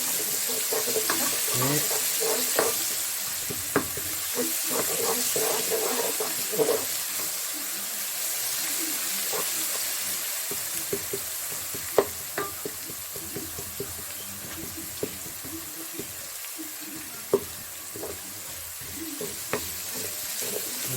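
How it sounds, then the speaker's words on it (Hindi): Garlic ginger paste sautéing in oil with browned onions, a steady soft sizzle with scattered clinks and scraping stirs from close by; nobody talks. "अब हम इसमें गार्लिक जिंजर का पेस्ट डालेंगे। इसको बिल्कुल हल्का सा सौते करना है।"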